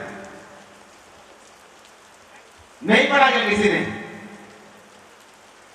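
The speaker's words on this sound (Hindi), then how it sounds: "बारिश कोई प्रॉब्लम नहीं" Steady rain falls during a Sunday sermon, a soft continuous hiss beneath a preacher's amplified voice, which rises briefly before fading back.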